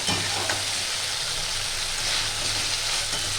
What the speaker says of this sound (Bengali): এটা 2-3 মিনিট আমি ভালো করে কষিয়ে নেব।